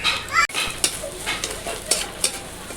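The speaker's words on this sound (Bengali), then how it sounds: "যতক্ষণ না জলটা শুকাবে ততক্ষণ এটাকে এরকমভাবে নাড়তেই থাকবো" Kharkol leaf paste being stirred and dried in a hot pan, with a soft sizzle and repeated scraping strokes of a spoon against the pan, close and fairly loud.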